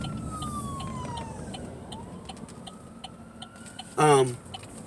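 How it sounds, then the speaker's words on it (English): A fire truck siren wails in the distance, its tone sliding slowly up and down over outdoor background noise, before a short, loud nearby sound briefly cuts through. "Fire truck."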